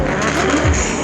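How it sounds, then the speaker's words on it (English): Loud, rough race car engines without catalytic converters fire up, roaring and revving close by at Pikes Peak, a dense mechanical growl filling the whole moment. "Cars firing up, no catalytic converters."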